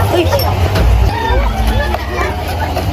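Chickens cluck and squawk close by amid noisy outdoor commotion, with voices mixed in the background.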